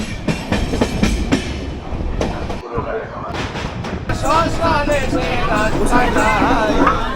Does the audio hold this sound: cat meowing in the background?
no